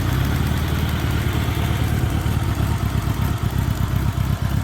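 A 1986 Honda GL1200 Goldwing motorcycle engine idles cold, steady and close, with a smooth even rumble and slight irregular pulsing and no speech.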